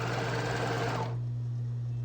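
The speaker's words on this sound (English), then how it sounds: "you're only overlocking between the notches" An overlocker stitches through fabric layers on a jumpsuit seam, running steadily with a dense rapid buzz for about a second before cutting to a quieter low hum as it slows or stops.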